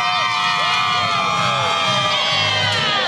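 A large crowd at a brewery watch party for the Aztecs championship cheers and shouts together, with many overlapping voices whooping loudly and continuously nearby.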